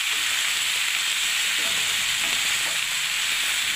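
Ridge gourd and potato sizzle loudly while being stir-fried over lowered gas heat in a small, crowded kadai, a constant close hiss with faint scraping from stirring.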